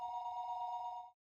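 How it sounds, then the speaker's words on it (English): A telephone rings in the Higurashi video game, a steady electronic bell tone held for about a second before cutting off cleanly, loud and alone. "for some reason the phone, like, freaks me out. The sound of it in this game"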